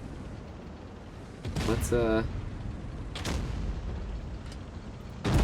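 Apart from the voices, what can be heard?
tank firing HE shells in World of Tanks Blitz video game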